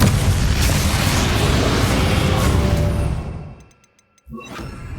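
A Confringo blasting spell in Hogwarts Legacy fires with a loud, full explosion that roars for about three seconds, then fades to near silence before a second burst kicks in at the end.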